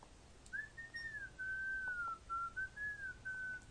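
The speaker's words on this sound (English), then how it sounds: "The whistling started" A lone whistled tune drifts past a house at night, a clear wavering melody of sustained notes over faint background hiss, moderately distant.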